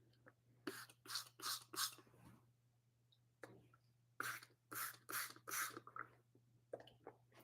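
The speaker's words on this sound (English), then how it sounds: "nobody wants to see me hack and cough" Two clusters of harsh, bursting coughs, three or four in each, close and loud, separated by a short pause, with faint breathing over a steady low hum.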